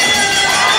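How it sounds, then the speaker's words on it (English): Boxing arena crowd roaring and cheering at the bell for Damaen Kelly's bout against Jose Lopez Bueno, a dense, loud, sustained wash of many voices with high shouts throughout a brief burst. "the crowd roars"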